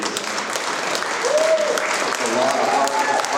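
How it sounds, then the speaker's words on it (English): A conference hall audience at a log building event applauds steadily for a group of women, the clapping dense and fairly close, with a voice speaking briefly over it. "let's give it a hand of applause for these ladies"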